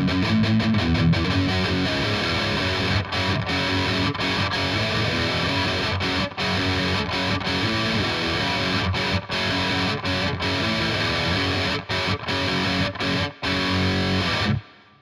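Heavily distorted electric guitar plays the dense, sustained outro of a song, loud and continuous with brief rhythmic breaks, ending with a sudden cutoff; no voices.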